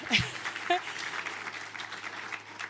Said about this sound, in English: Thank you for that smattering of applause